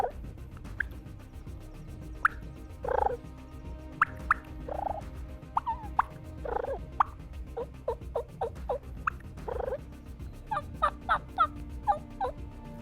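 A turkey mouth call, used for hunting in Wisconsin, imitates a hen's soft clucks and rolling purrs, with scattered sharp clucks and short purring trills, and a quick series of clucks near the end. The sounds are close and fairly quiet, with no talking.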